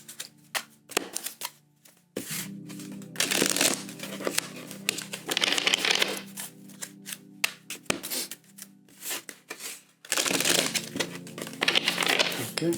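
Tarot cards being shuffled in repeated bursts of crisp riffling and rustling, close by, with short pauses between bursts and no talking.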